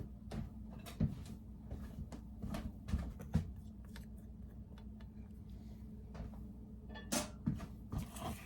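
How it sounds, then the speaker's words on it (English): Kitchen drawer being opened and a spatula grabbed, a series of faint clicks, knocks and utensil rattles spread over several seconds, with a louder cluster of clacks near the end. "And grab a spatula."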